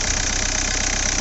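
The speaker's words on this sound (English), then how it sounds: "Fired the engine up." A Kia Ceed or Hyundai i30 engine, freshly refilled after an oil and filter change, runs at a steady idle, a close, even mechanical hum with a faint rhythmic knock.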